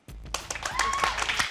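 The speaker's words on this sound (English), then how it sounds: "Round of applause" A crowd at a live gaming show breaks into applause, the clapping starting abruptly and building into a dense, steady burst that fills the short moment.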